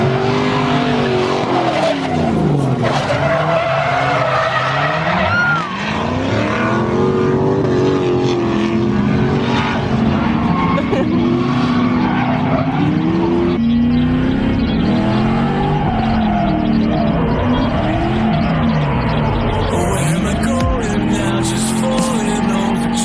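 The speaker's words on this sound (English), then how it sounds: "ready to go out on the track and drift" A drift car slides around a race track at a spring drifting event at QLD Raceway, its engine roaring loud and continuous with rising and falling revs and long tire skids throughout.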